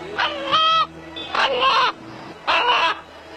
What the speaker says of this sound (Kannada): ಈ ವ್ಯತ್ಯಾಸವೇ ಹುಂಜ ಹೀಗೆ ಕೂಗಲು ಕಾರಣವಿರಬಹುದು